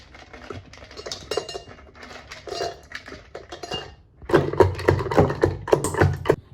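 Ice cubes clink and rattle as they drop into a glass of aval milk drink made with condensed milk, scattered sharp taps at first, then a louder cluster of clinks and knocks near the end.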